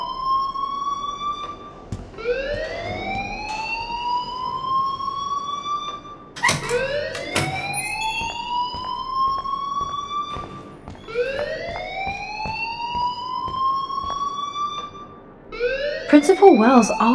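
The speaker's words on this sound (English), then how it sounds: "please turn off that alarm since that's your job" A school alarm blares in the video game Life is Strange, repeating rising siren-like wails in a steady cycle every few seconds, loud and continuous, with sharp bursts and a louder ending.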